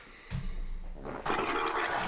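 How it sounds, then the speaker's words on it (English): Water running from a sink tap fills a container, a harsh, rushing broadband spray that starts abruptly and grows louder partway through, close and steady, with no talk over it. "That sink sounds horrendous."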